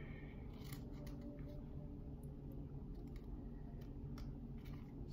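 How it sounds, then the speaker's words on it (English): Small fussy-cut craft scissors snip paper in quick, close clicks scattered over a steady low background hum, with no talking. "I'm gonna get my little trusted fussy cut scissors out."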